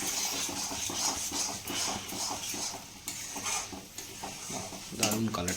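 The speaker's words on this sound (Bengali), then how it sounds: "এটাকে ভালো করে নাড়তে হবে কষতে হবে ভালো করে" Soaked dal is stirred into spice masala in a pan for tarka, with a soft sizzle under repeated scraping stirs of a spoon against metal, and a voice murmurs faintly partway through.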